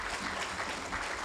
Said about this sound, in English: please welcome him back to the microphone with a rousing round of applause